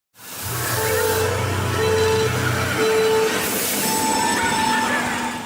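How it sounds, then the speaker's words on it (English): A train running between Kobe and Osaka in Japan, a steady loud rumble of wheels on track with high squealing tones and a brief rising whine, heard from close by. "took a few trains to get us to Universal Studios, Japan, in Osaka"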